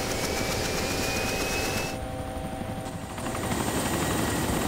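A helicopter flies in the video game DayZ OverPoch, with a steady, continuous rotor and engine drone that dips briefly in the middle before returning to full strength.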